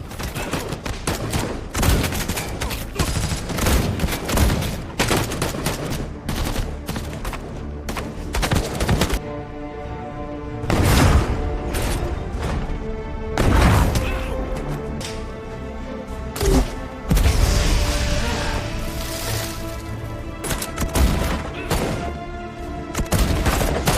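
A film shootout erupts in bursts of gunfire, with rapid automatic volleys, single loud shots and booms layered over dramatic music, dense and loud throughout with brief lulls.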